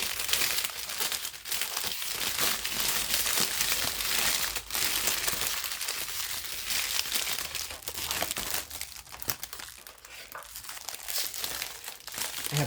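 Cellophane crinkles continuously as a candy gram is wrapped up, close and loud, with dense crackling rustles and occasional sharper crunches throughout and no talking.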